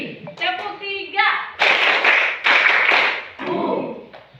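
Students in a classroom clapping three times on their teacher's cue, loud close claps forming a few dense bursts in the middle, framed by the teacher's voice speaking before and after.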